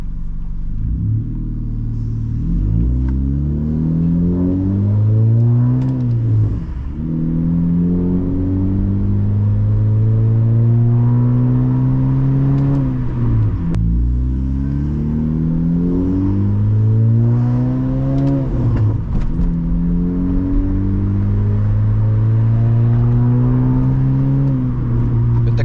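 A turbocharged Honda Civic engine running E15 fuel revs repeatedly through a deep, throaty exhaust, rising and falling in several long pulls with a low rumbling idle between.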